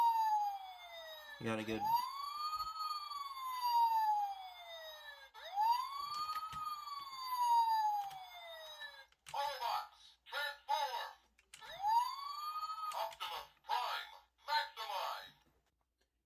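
The Fire Convoy Optimus Prime toy from Transformers plays a wailing electronic siren effect, rising and falling sweeps repeated three times, interleaved with short bursts of toy voice and chatter, loud and close.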